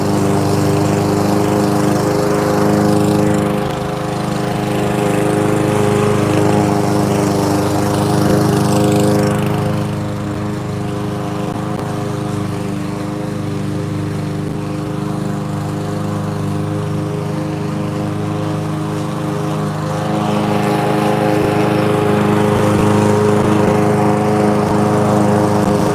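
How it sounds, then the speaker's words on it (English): A lawn mower runs continuously with a steady droning engine hum, loud and fairly near, dipping slightly in the middle before rising again. "you're hearing lawnmower"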